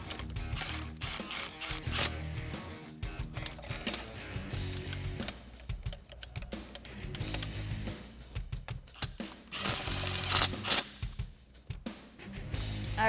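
A ratchet tightens fuel rail bolts on a Mustang GT during a fuel injector install, with close, repeated metallic clicking strokes in quick irregular bursts and small clanks between them.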